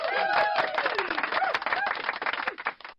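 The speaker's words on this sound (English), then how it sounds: "I'm gonna give you a hand clap because y'all the real MVP" Hand clapping in a quick patter runs through most of the three seconds, mixed with voice-like sounds and a bit of chuckling, fading out at the end.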